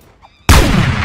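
After a near-silent pause, a semi-automatic sniper rifle in the video game Apewar fires one loud, sharp shot, close by, followed by a rumbling tail that fades slowly.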